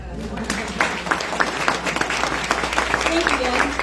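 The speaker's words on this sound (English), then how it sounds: "I think we should give them a round of applause." An audience applauds at a family farm's 100-year celebration with dense, continuous clapping, and voices murmur and call out underneath. The room sounds lively and fairly loud throughout.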